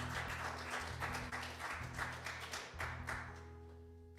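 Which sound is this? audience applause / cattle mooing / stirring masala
audience applause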